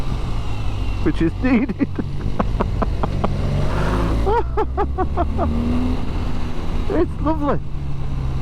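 A 2024 BMW R12 NineT with its air-cooled 1200 engine runs at a steady low drone while riding, heard under someone talking close to the microphone.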